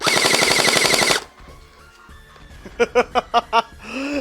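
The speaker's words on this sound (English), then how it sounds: "this thing has like the highest rate of fire of any of these gel blasters I've ever used" An X-Shot gel blaster fires a rapid burst of shots up close, then after a short pause a few separate sharp pops ring out, with faint voices in the background.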